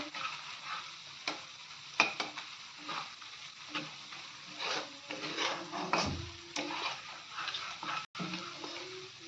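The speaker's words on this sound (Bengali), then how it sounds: "মশলাটাকে কিছু সময় ভালো করে নেড়ে চেড়ে কষিয়ে নিতে হবে।" Masala spice paste stir-fried in oil for a paneer and potato dish, a steady close sizzle broken by repeated scraping and clacking strokes of a spoon against the pan, with no talking.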